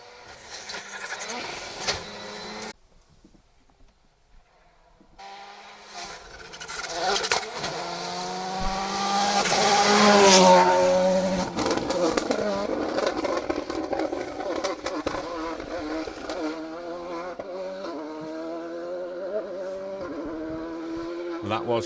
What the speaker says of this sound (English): That was car number 9, Derek McGarity.